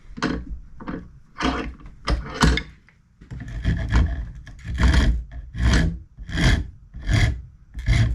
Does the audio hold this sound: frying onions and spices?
no